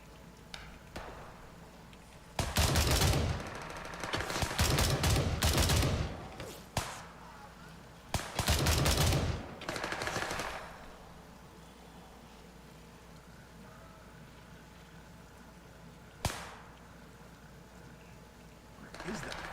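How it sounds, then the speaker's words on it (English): Submachine gun fire rattles in the military shooter Gray Zone Warfare, coming in two loud rapid bursts with a single later shot and quieter ambience between. "So that's submachine gun fire"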